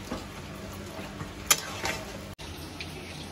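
Marinated chicken frying in a pan over a high flame, a steady low sizzle with occasional stirring scrapes and brief clatters, fairly quiet and with no talk.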